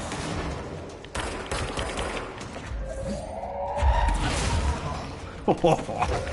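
A grenade is thrown and explodes in the video game Control: a whoosh followed by a heavy boom and crackling blasts over continuous game noise and a talking voice.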